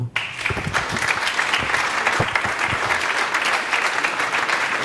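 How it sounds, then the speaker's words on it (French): An audience at a conference session breaks into loud, sustained applause right after a short pause, a steady dense wash of clapping that holds throughout. "Je vous remercie de les applaudir"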